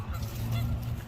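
A duck gives a short, close honking call about a second long, loud and nasal, with no other sound around it.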